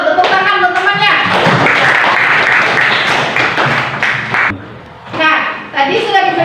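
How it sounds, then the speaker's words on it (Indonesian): Schoolchildren in a classroom clap together for a classmate, a dense burst of hand claps lasting several seconds with children's voices mixed in, fading briefly before speech resumes. "Tepuk tangan untuk temannya."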